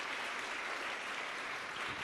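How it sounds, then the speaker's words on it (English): An audience applauds after a talk on Indigenous self-determination, with even, sustained clapping that fills the room throughout. "one final round of applause for Andre."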